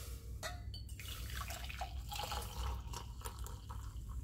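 Freshly brewed anti-inflammatory coffee pours into a cup, a soft continuous trickle with faint drips and splashes, quiet and close, with no talking.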